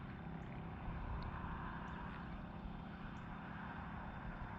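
A Flite FW 190A radio-controlled plane's electric motor hums steadily and faintly while the model rolls, a low continuous drone with a few faint high chirps, no voices.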